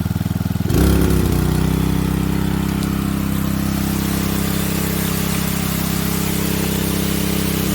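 A gasoline engine on a homemade aluminum highbanker's mining pump starts up and settles into a steady, close idle, with a strong low rumble that holds evenly throughout.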